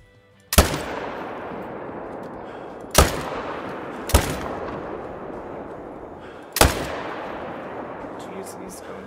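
Four sharp rifle shots at deer in a hunting video game, spaced irregularly and each followed by a long rolling echo, with brief talk in between.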